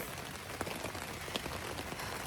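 Steady rain pours down in a dense, even hiss, with scattered sharper drops pattering close by, heard alone with no voices.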